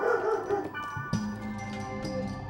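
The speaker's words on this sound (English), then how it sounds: "the puppies are on high alert and barking at everything that moves." Puppies in the Twitch stream of the video game .hack//Outbreak bark in a few short, sharp yaps at moderate distance, with a busy game soundtrack underneath.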